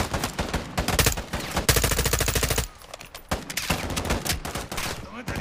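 Sustained automatic gunfire and overlapping shots ring out in a Modern Warfare 2 campaign firefight, loud and dense, briefly easing before bursts resume.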